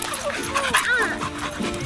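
A dog makes short whimpering yips and panting noises close by while a person speaks over it at a Fourth of July party.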